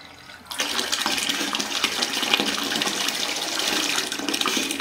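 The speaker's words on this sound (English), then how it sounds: "I want you to see the dirty water coming out of here" Dirty water gushes steadily from an opened boiler drain valve during routine boiler maintenance, a continuous close splashing flow that starts abruptly after a brief quiet moment and runs on without talk.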